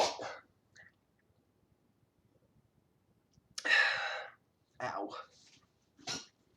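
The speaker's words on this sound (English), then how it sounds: "only one sneeze after 28 minutes" One sharp, close sneeze bursts out of near silence, followed by breathy murmuring sounds.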